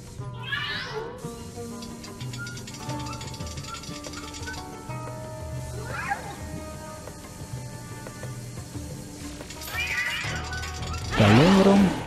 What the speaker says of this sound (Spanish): el gato ahora está aquí arriba en esta cosa